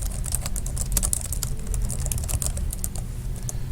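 Typing on a computer keyboard, a rapid, steady patter of close, crisp key clicks running continuously with no talk.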